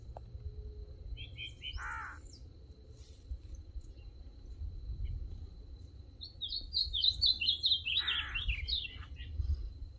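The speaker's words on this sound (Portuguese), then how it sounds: "Tem um passarinho cantando bonito" Small bird singing near a large remote dam, with two short bursts of bright chirping trills standing out over a low outdoor rumble and faint insect-like hum.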